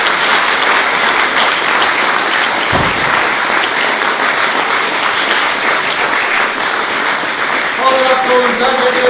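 A dinner crowd at a cricket club's 125-year celebration bursts into sustained, dense applause filling the room for the full length, with a few voices rising near the end.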